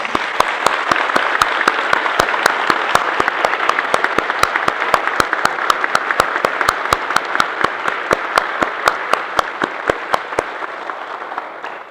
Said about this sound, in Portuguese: Agora, aos papais, uma salva de palmas.